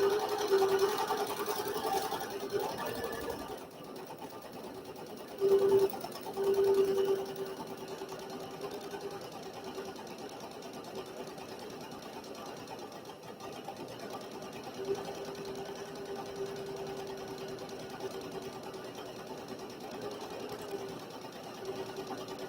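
A sewing machine stitches up both sides of a small fabric tube, its soft, steady motor whir running quietly throughout, with a few brief louder bursts early on.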